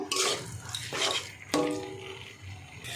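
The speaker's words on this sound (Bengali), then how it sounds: "মিশিয়ে নেব, মিশিয়ে একটু মশলার সঙ্গে পনিরটা কষাবো।" Paneer mashed with spices is stirred in a pan for a healthy paneer tadka, giving scraping, clinking utensil sounds against the pan with soft moist shuffling, several distinct strokes close up and no talking.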